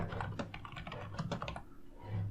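A keyword is typed on a computer keyboard, rapid close key clicks in uneven bursts, then a short pause and a faint low hum.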